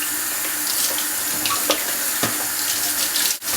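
Tap water running steadily into a sink while fan parts are cleaned, a loud close rushing stream with small splashes and clunks of parts being handled.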